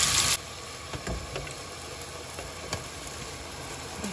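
Mushrooms sizzle in a pan while cooking for a cream cheese mushroom pasta, a steady close hiss with scattered soft crackles and light stirring ticks after a brief louder burst at the start.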